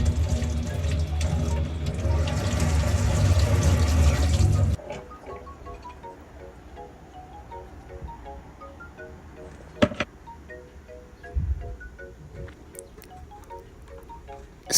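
Food washed under a running kitchen tap before going into the oven, a steady loud splashing stream for several seconds that then stops, followed by quiet handling clatter and a couple of light knocks.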